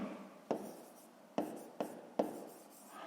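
Pen or pencil writing on paper during a fifth-grade math exercise, four quick sharp scratching strokes close by, each fading into quiet, with no talk.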